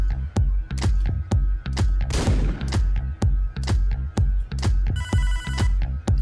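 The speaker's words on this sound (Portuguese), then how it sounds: "Opa, o telefone tocou" A phone rings repeatedly in Hotline Miami, its electronic ring cutting through a loud, steady pulsing synth soundtrack, with a brief burst of noise in the middle.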